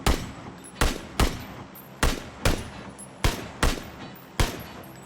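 Single gunshots from a PUBG video game gun without a grip attachment, eight sharp, loud reports fired at a fairly even pace, each with a short decaying tail.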